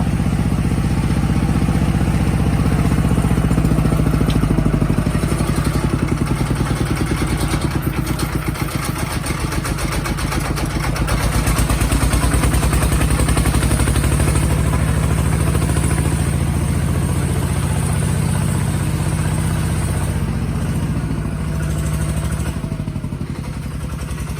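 A tractor engine runs continuously nearby, a steady low rumbling chug with some clatter and no talking.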